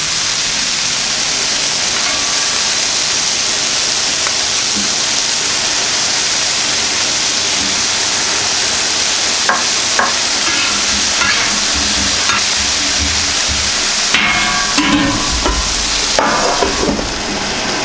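Butter sizzling on a Camp Chef FTG600 flat top grill outdoors, a loud, steady, close hiss joined later by spatula scrapes and clatter.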